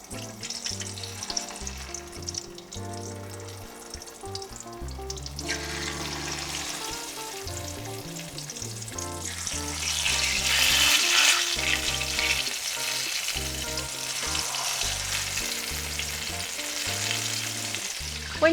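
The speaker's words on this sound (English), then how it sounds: "I test the oil by just putting a little bit of breadcrumbs, and if they start sizzling, you know the oil's ready." Stuffed eggplants frying skin side down in hot oil give a steady sizzle that swells louder midway, with a few soft kitchen clatters and stirring sounds.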